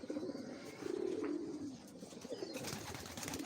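Freed pigeons, Giribaz among them, give a few drawn-out, throaty coos, low and quiet, then fade into faint background rustle.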